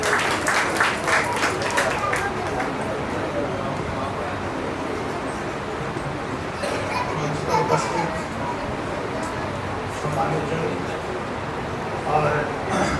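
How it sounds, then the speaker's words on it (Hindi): Audience applause at a teachers' award ceremony, a dense steady clapping spread across the hall that runs throughout, with some crowd noise and children's voices mixed in. "तालियों से स्वागत"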